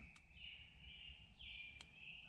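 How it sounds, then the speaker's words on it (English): A small bird calling in the evening at Indian Cave State Park, a faint, thin repeated call in two sustained bursts with two short clicks, in quiet surroundings. "that one little bird's going crazy."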